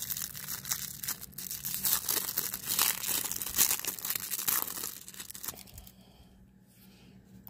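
A Babe Ruth collection trading card pack is torn open, giving continuous close crinkling and tearing of foil wrapper that tapers off into quiet near the end.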